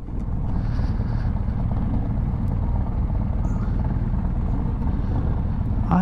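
A Harley-Davidson Road Glide bagger runs at a drag strip, giving a loud, steady, low engine rumble that holds evenly for the whole stretch with no pauses or talk.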